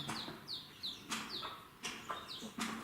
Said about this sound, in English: Jumps in there and pecks away.